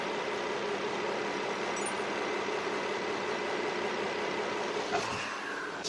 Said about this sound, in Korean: 지금 바로 이제 M37 차량의 엔진 소리 한번 자세하게 들려드릴게요